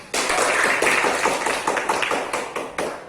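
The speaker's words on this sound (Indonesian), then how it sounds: "beri aplaus buat kelompok 3" A class of students gives group 3 a brief round of applause in a classroom, a dense burst of clapping that starts abruptly and tapers off over about three seconds.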